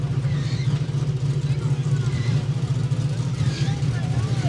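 A Toyota Supra drag car finishes its run at a no-prep airstrip drag meet, a steady loud engine drone with crowd chatter mixed in.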